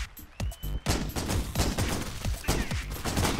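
Rapid gunfire in The Crackpet Show video game, dense repeated shots and bursts of fire in a continuous loud fusillade with no gaps.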